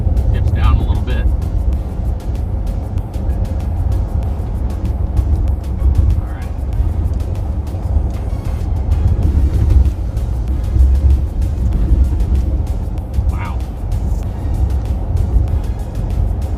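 A 2022 RAM 1500 Limited pickup rolls over rough road, a steady low rumble of tires and cabin noise with faint bumps, while people talk inside the cab throughout.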